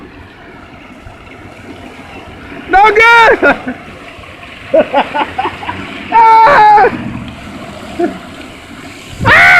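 Water gushing from a burst water main, a loud continuous rushing roar throughout, with several people shouting and talking excitedly over it.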